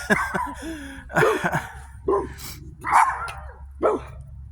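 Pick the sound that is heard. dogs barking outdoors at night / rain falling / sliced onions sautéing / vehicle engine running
dogs barking outdoors at night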